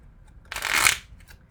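Tarot cards riffle-shuffled in one quick burst of papery flapping, close and fairly loud against a quiet room, with no talk.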